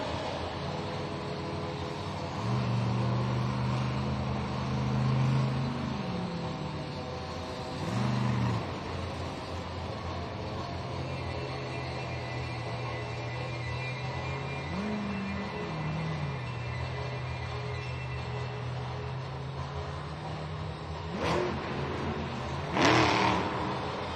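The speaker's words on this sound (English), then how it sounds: "Third driver in a row getting up on the nose of that Monster Jam truck" The El Toro Loco Monster Jam monster truck revs at a freestyle event in a Sydney, Australia stadium, its engine surging in several rising bursts over a steady, loud arena rumble, with sharp noisy bangs near the end.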